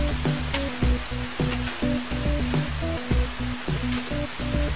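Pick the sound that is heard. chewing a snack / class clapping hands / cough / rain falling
rain falling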